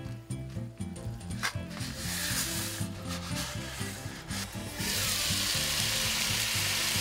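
Food sizzling in a thin layer of olive oil in a pan over medium heat, a steady close crackling hiss that swells louder partway through, with faint scraping and no talk.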